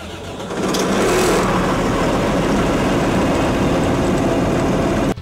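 A Claas Axion 850 tractor with a 6.7-litre six-cylinder FPT engine fires up and runs at a steady, loud, dense roar for about five seconds before cutting off abruptly.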